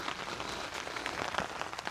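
Steady rain falls across a vegetable farm planted with water spinach, a dense, even hiss of drops on leaves and soil with occasional closer patters, no voices.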